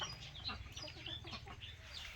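Bantam and game fowl chickens cluck in a pen, a steady run of soft, overlapping clucks and short calls at moderate distance, with no talk over them.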